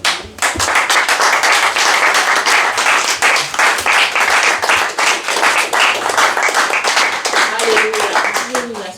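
A church congregation breaks into sustained, dense applause after a Bible reading, loud and close, steady for several seconds before fading, with some voices calling out near the end.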